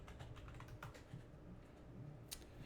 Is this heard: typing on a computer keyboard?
yes